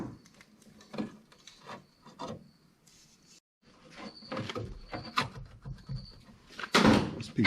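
A trim piece on a 1959 Dodge Coronet is pried and wiggled loose, giving faint intermittent rubbing, scraping and clicking, ending in a louder scrape as it comes free.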